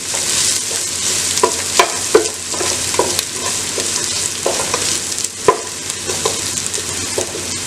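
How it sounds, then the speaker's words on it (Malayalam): Crushed garlic frying in a pan for a sprouted green gram stir-fry makes a steady close sizzle, broken by repeated scraping strokes of stirring at an uneven rhythm. "വെളുത്തുള്ളി ചതച്ചിട്ട് കൊടുക്കാം."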